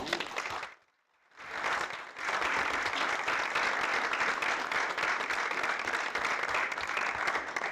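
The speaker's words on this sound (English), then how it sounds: "join me in giving him a round of applause" Applause from the audience at a school district annual meeting, dense and steady, holding at an even level after a brief quiet gap near the start.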